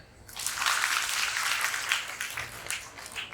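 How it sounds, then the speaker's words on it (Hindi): Loud, sustained applause from a seated audience at a Hindi-language introductory workshop camp in Valukad, Gujarat, a dense wash of many hands clapping that swells quickly, holds steady and tapers slightly toward the end. "गुड, जोरदार ताली"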